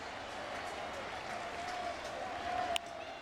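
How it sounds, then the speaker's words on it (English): Baseball crowd at a Cardinals at Mets game in 2011 applauding Beltran, some fans standing: a steady wash of distant stadium clapping and cheering, with a brief sharper burst near the end. "you hear this crowd, some of them on their feet for Beltran"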